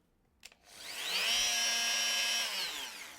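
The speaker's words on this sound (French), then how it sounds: "Parce que là, ça fonctionne. Si je la mets à 1" A Bosch PMF 220 CE multifunction power tool at its lowest setting, 1, starts after a brief click and runs with a steady, loud whine for about two seconds before easing off.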